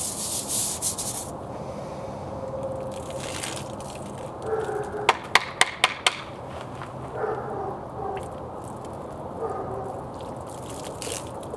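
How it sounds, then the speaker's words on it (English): Rust is scrubbed off metal with steady, close abrasive rubbing and a short cluster of sharp scraping clicks partway through. "you are going to scrub off a little bit of the rust"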